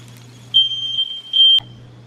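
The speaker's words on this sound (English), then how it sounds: "The alarms went off." A smoke alarm set off during cooking beeps loudly and steadily in two long high-pitched bursts, cutting off abruptly over a low background hum.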